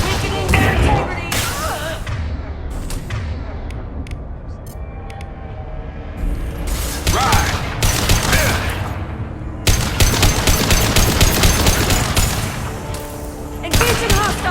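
Gunfire in a Mass Effect 2 firefight, bursts of rapid shots and rattling volleys coming and going over about fifteen seconds, loud and dense, with combat voices calling out between the shooting.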